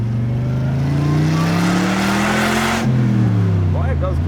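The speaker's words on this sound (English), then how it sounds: "Oh, I love hearing that supercharger." A supercharged classic muscle car accelerates hard on a ride, its engine note rising steadily with a gear change near the end, loud and close from inside the car, with people talking over it.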